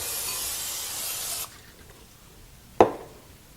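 Cooking spray hisses into a 9x9 baking dish in a steady burst of about a second and a half, then stops, followed by a short sharp clack of the can being set down.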